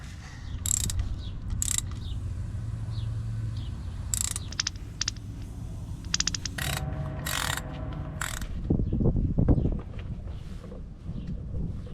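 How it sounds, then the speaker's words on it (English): A torque wrench clicks and ratchets on bolts of a 1987 Jeep Cherokee driveshaft, with sharp metallic clicks and mechanical rattling close by, with no talking. "I'm glad I'm double checking these with a torque wrench because these were loose"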